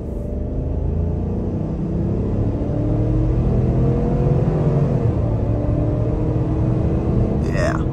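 A 2023 Chevy Tahoe Premier accelerates onto a highway, its engine rising in a steady, loud rumble and whir heard from inside the cabin, with road noise underneath throughout.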